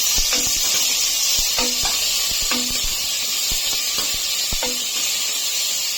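Onions sizzle steadily in hot oil for a capsicum curry, a constant broad hiss with repeated short clicks and spatters, no talking.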